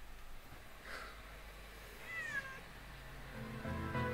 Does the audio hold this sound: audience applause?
no